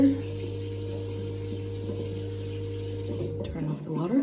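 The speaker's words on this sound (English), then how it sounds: "Turn off the water." Water runs steadily from a tap into a sink in a continuous close-up stream, then shuts off near the end, followed by a brief rustle.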